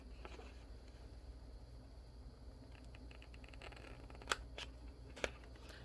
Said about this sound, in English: cut the little corners right here as best as possible, as straight as humanly possible